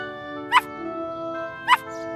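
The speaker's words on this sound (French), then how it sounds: "Oh, tu entends ça? Quelqu'un aboie." A small dog gives two sharp, separate yips roughly a second apart, heard over a steady toy-like background hum.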